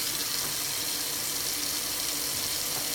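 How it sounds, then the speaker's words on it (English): Tap water runs steadily into a salad spinner with a built-in strainer at a kitchen sink, a continuous close hiss and splash of filling water with no talking. "So I'm gonna fill this up with water again."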